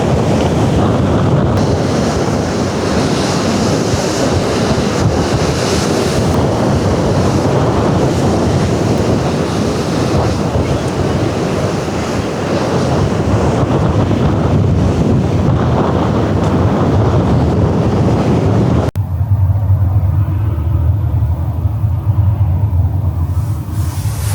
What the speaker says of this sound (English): Look at those waves, man.